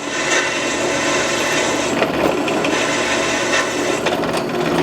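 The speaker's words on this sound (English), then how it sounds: "So the hole I'm actually drilling" Continuous grinding, rasping noise of a Harbor Freight drill press bit boring into hard, wet material, steady and loud for several seconds with slight variations in pitch.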